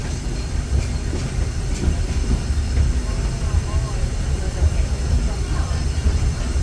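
Disneyland Railroad train rolls along the rails with a constant loud rumble and faint wheel clatter, while a voice announcement plays over it.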